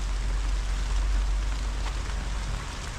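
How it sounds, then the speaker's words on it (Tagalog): Steady heavy rain hisses without a break, a dense wash of noise with a low rumble underneath and no voices. "lakas na yung ulan"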